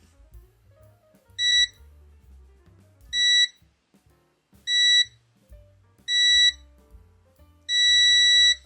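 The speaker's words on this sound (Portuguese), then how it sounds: "Um bip alto, luz e instantâneo, sem nenhum problema." NJTY T28B multimeter giving continuity test beeps: five loud, clean electronic tones, each about half a second, repeating at roughly even intervals with quiet handling noise between.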